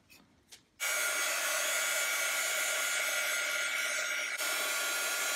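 A hair dryer blows on a wet watercolor painting of sweet pea flowers, switching on abruptly after a few soft handling sounds and then roaring steadily and close before a slight dip near the end, no one speaking.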